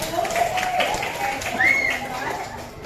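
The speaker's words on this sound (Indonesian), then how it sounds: "beri tepuk tangan untuk kelompok 1." Applause from students in a classroom for a group of classmates, a steady patter of clapping with voices calling out over it.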